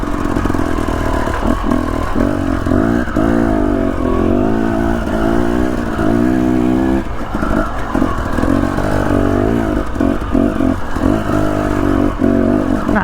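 Dirt motorcycle ridden along an off-camber trail in Idaho's green trails, its engine droning loudly and continuously with uneven throttle surges and revving, plus some clatter, with no talking.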